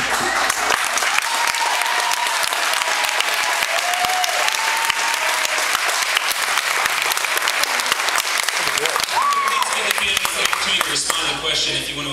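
Sustained applause fills the room at a Lake Worth special election debate, dense steady clapping from the audience with a few faint voices mixed in.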